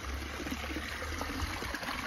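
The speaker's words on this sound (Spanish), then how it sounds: "Y aquí es, amigos, el agua que yo saco para los pollitos" Water flows and trickles from the spot where water is drawn for chickens, a soft, continuous stream murmur at low level with no voices.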